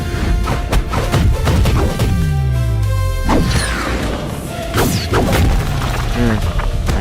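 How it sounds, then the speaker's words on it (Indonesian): Heavy crashes and booming impacts of rocks being smashed in an animated series, with several loud hits spread across the span among rumbling mechanical noise and sweeping effects. "Hancur tuh batu-batu."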